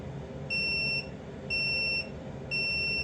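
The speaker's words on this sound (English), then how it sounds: "we waited for the 3 extra little beeps" A chamber vacuum sealer gives three evenly spaced electronic beeps one after another, each lasting about half a second, over a low mechanical hum.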